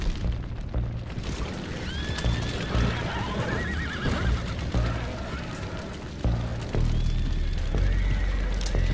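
A horse whinnies a couple of times over clattering hooves and a low rumbling background, with occasional distant booms, in the video game Red Dead Redemption 2.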